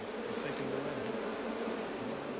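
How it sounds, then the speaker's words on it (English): A dense swarm of attacking honeybees at an apiary, a continuous loud buzzing drone with wavering pitch, close and unbroken throughout. "Bees from all over the apiary are joining the attack."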